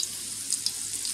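Plantain tostones frying in oil inside a lemon squeezer, a faint steady sizzle with occasional tiny pops and crackles, heard alone without talk.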